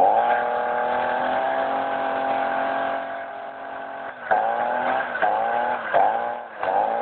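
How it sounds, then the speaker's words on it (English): A 2010 YamaSaw chainsaw bike's chainsaw engine, bump-started by pedalling, runs with a steady buzzing drone, then briefly dips and surges with quick throttle changes toward the end. "I'll now start the engine up. You pedal it to bump start the chainsaw."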